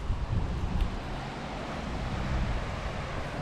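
Steady wind on an Australian beach rushes and buffets the microphone beside a motorhome, a broad rumbling roar that swells and eases without pause.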